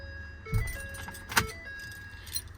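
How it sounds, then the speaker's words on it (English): A few sets of keys for a 2016 Ford F550 diesel service truck, including bin and padlock keys, jangle briefly in two or three soft metallic clinks, close and otherwise quiet. "2 sets of keys and a bunch of keys for the bins"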